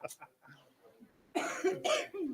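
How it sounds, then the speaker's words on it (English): A few quiet vocal sounds, then two or three loud, rough coughs in quick succession from someone close by at a school board meeting. "It's just a cough I can't get rid of."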